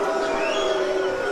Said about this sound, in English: The crowd don't like that. You can hear their response.